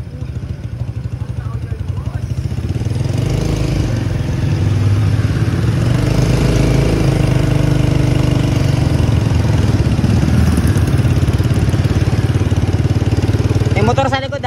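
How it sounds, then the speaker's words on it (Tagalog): Motorcycles riding behind during a duathlon in Cavite, a loud steady engine drone running throughout, close by, with voices talking over it. "May mga motor sa likod."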